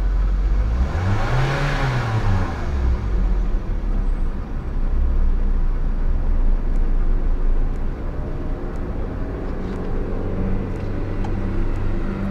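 An Isuzu, Hino or Fuso truck engine revs as the accelerator is pressed, a loud steady drone with a rising and falling sweep early on. The engine then settles into a continuous rumble, with no talking.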